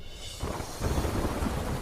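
Heavy monsoon downpour over Jambughoda and Ghoghamba in Gujarat, a dense roaring wash that swells suddenly into a loud rumble of thunder after a quieter start.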